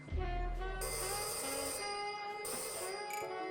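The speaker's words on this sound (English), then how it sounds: "The gentle ringing of an old-school rotary phone on the back wall went off, and Orion excused himself to answer it." An old-school rotary phone on a back wall rings in a dim lounge, its bell tones ringing steadily and softly through a sustained, ambient musical backdrop.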